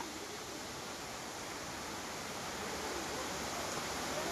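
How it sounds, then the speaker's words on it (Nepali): Jalbire waterfall, a long cascade, roars as a steady broadband rush of falling water, loud and unbroken throughout with no voices. "जलबिरे झरनामा हामी आइपुगेका छौँ।"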